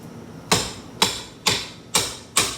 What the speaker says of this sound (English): begin to gently pry the brick mold loose from the jamb